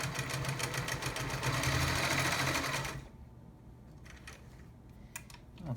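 A vintage Singer Stylist 513 sewing machine stitches a wide zigzag, a loud steady rapid whirring run for about three seconds that then stops, leaving faint room noise and small clicks.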